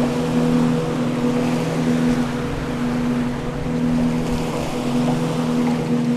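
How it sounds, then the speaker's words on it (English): Steady engine drone of a small jon boat out at sea off the Florida Keys, with waves and wind washing around the hull, continuous and fairly loud throughout with no talking. "Yo, those are some big waves"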